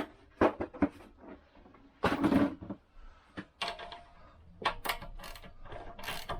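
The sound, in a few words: socket wrench turning over Lambretta scooter engine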